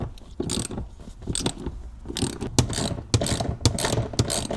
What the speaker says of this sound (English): we're just going to undo both of those with a ratchet